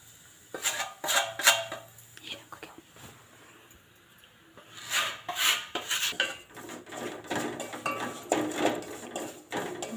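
Semolina (rava) being roasted in a pan for a chikoo sheera, with scraping and rasping stirs and light metallic clinks in irregular bursts, close by and with no talking.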